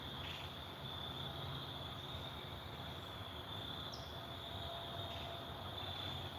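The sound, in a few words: crickets, frogs and birds in woods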